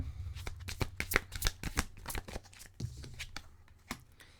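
Tarot cards are shuffled up close in quick, crisp riffles and flicks for about four seconds, a steady run of papery snaps with no talking over them.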